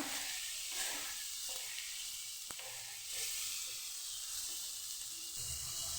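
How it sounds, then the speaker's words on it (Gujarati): Tomatoes and onions sizzle steadily in a pan, a continuous close frying hiss with a few soft stirring scrapes and a brief click partway through. "ટામેટાં એકદમ સરસ પોચા થાય ત્યાં સુધી આપણાને આમાં પકાવવાના છે"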